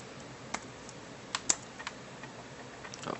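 A handful of separate key presses on a computer keyboard while a Linux live CD is being set up, quiet clicks spaced irregularly with a slightly louder pair in the middle, alone with no talking.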